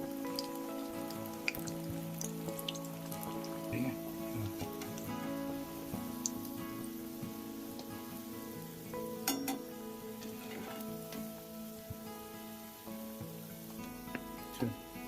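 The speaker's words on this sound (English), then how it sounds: "I have already heated oil to deep fry these koftas in batches. So after you add kofta to the oil, just let it cook for a while." Koftas deep frying in hot vegetable oil, a soft steady bubbling crackle with scattered pops and faint clinks in the background.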